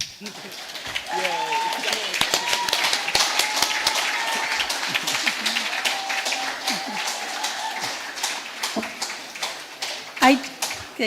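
Audience at a Minneapolis city ward candidate forum claps for the candidates, a steady spatter of applause lasting several seconds with voices mixed in.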